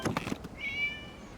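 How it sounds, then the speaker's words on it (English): A single cat meow in Genshin Impact, soft and fairly close, follows a few brief muffled knocks and sounds. "It was just a cat."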